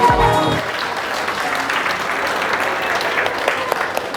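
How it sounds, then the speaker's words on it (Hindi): An audience on stage at an event applauds to welcome a guest, steady dense clapping from a crowd that carries on throughout, with a brief voice and low tone at the very start. "एक बार जोरदार तालियों के साथ सोनी जी का स्वागत करेंगे"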